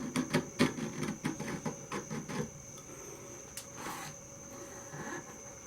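A woodturning scraper cuts shavings from wood on the lathe, giving a rhythmic series of rasping, scraping strokes that fade into quieter rubbing, with a steady high whine underneath.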